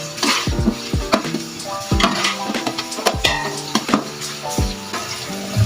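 Garlic ginger paste sizzles as it hits light-brown frying onions in a pan for channa pulao, with steady crackle and repeated sharp metal clinks of a spoon stirring against the pan, close and loud, no talking.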